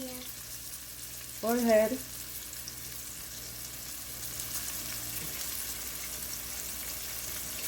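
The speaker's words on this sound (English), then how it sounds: "Now I'm gonna add breaded shrimp or my coated shrimp to the frying pan." Breaded, coated shrimp fry in hot oil in a frying pan with a steady, close sizzling hiss throughout; a person briefly speaks early on.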